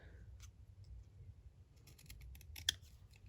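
Small scissors snip a paper card in a few faint, quick cuts, scattered crisp clicks close by in a quiet room.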